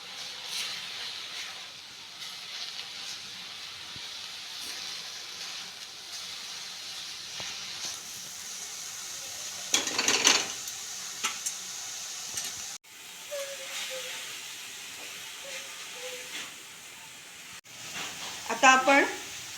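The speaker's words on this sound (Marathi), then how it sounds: "पुन्हा एकदा भाजी चांगली व्यवस्थित परतून घेऊया." Methi (fenugreek) vegetable sautés in a kadhai with a steady soft hiss and sizzle, broken by a few louder bursts of stirring and scraping, while someone talks over it.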